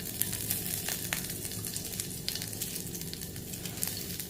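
Steady crackling sizzle of mustard seeds frying in hot oil, with scattered sharper pops over a constant hiss, close and fairly quiet.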